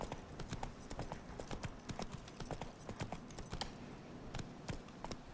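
Roach, a horse in the video game Witcher 3, clip-clops along at a steady gallop, the hoof beats close and rhythmic over a continuous ground noise, with no talking.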